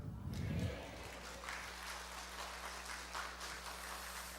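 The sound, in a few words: audience applause in a church gathering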